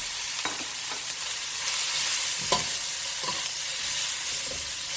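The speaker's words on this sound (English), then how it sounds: "Going to give this a good stir fry." Vegetables for lo mein, with onion whites, garlic and ginger, sizzle and hiss in a hot pan, with a steady bright frying noise and a few soft stirring scrapes, fairly quiet and without speech.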